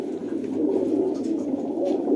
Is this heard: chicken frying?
no